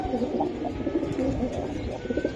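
Pigeons coo in low, throaty repeated calls close by, an irregular murmur of several birds layered over one another with steady background noise and no talk. The hens are a khaki-colored female pigeon and her pen mates.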